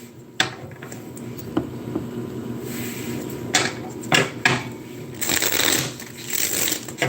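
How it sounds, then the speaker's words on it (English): Playing cards are shuffled repeatedly by hand, giving a run of crisp riffles and flicks with intermittent louder bursts, close and clear with no talking. "Let me shuffle a little bit here and we'll see what we got going on for you."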